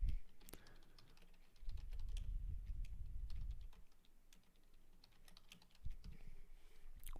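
Quiet keystrokes on a computer keyboard as notes are typed in, a short soft tap early on, then a steady run of typing for about two seconds and a few more taps near the end, close and faint.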